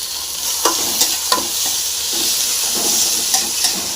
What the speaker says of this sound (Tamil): தக்காளி போட்டாச்சு இதையும் போட்டு நல்லா ஃப்ரை பண்ணிக்கலாம்